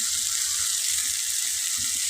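Fish curry spices with turmeric and chili powder being stirred with a metal spatula in a pan, giving a steady, close sizzle with soft scraping throughout, no voices.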